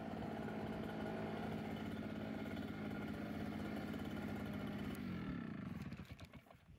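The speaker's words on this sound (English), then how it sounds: "then just blow off the driveway" A leaf blower clearing a driveway after mowing a big wet, overgrown lawn, a loud continuous engine roar with a steady tone that drops and sputters out near the end.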